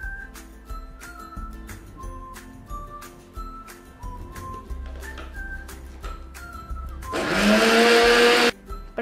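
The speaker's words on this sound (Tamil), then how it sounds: "திரும்பி லோ ஸ்பீடில் அரைச்சிக்கலாம்" An electric blender whirs at low speed as mayonnaise is ground, short bursts between pauses with faint ticks, then a louder sustained grinding run near the end.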